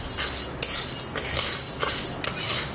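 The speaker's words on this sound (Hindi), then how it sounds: "एक कढ़ाई में इस चना दाल को भून लेंगे" Chana dal roasting in a kadhai, a metal spoon repeatedly scraping and clinking against the pan in an irregular stirring rhythm over a soft dry rustle, close and clear.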